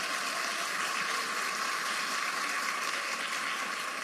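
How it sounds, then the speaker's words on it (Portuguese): A church congregation at an evangelical Christian education event applauds together, a dense steady wash of clapping that stays even and unbroken throughout. "Pode aplaudir, se é para Jesus, pode aplaudir."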